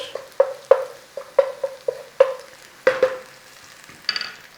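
Onions frying in oil in a pan for a curry, heard as a run of sharp, close scraping knocks from a utensil working the pan at an uneven rhythm over a faint sizzle.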